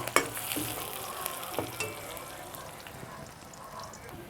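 Chopped onion frying lightly in a pan, giving a faint, steady sizzle with a few soft stirring clicks and scrapes near the start, fairly quiet throughout.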